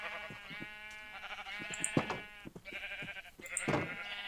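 Several sheep in Minecraft bleat in repeated wavering calls, loud and close, with short gaps between them and nothing else heard.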